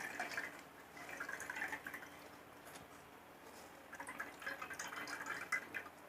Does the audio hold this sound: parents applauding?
no